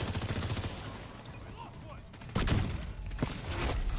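Rapid gunfire crackles in The Division 2, with several loud volleys and sharp bursts separated by brief lulls, mixed with speech in the background.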